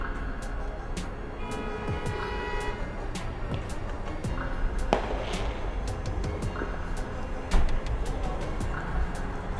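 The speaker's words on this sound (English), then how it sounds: "that's shooting fireworks right now, so you may hear that in the background." Distant fireworks at an evening show pop and crackle in scattered bursts, heard from a parking deck over steady traffic rumble, with a few louder booms standing out.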